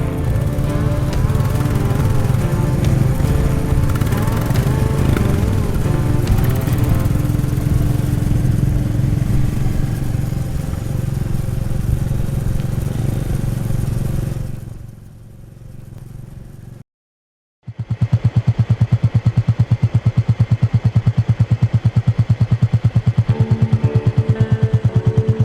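A Royal Enfield Classic 350 motorcycle's engine thumps steadily during a ride, loud and continuous, then drops away briefly to near silence before the engine note returns at full strength.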